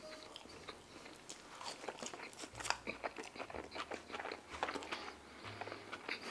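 Crunchy truffle fries being eaten up close, with a run of crisp bites and chewing crunches that come in irregular bursts over a quiet background.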